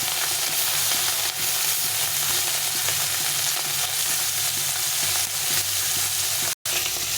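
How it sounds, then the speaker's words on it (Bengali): Fish pieces fry in a pan with a continuous, loud, close sizzle and crackle that holds steady throughout, broken only by a momentary cut near the end. "তো মাছগুলো ভাজতে দিয়েছি"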